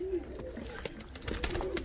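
Almond show pigeons, three-coloured birds with black, red and grey mottling, coo softly and close by in short repeated phrases, with light rustling and background noise around them and no talk.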